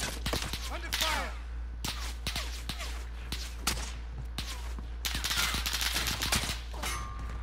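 Dense gunfire from the video game Call of Duty: Modern Warfare, with bursts of rapid automatic shots and scattered single reports, loud and continuous under a steady low hum throughout.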